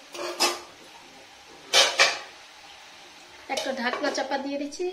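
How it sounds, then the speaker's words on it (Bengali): A lid is placed on a cooking pot of homemade tomato sauce, making two separate metallic clatters close by, followed by someone talking. "আমি একটা ঢাকনা চাপা দিয়ে দিচ্ছি"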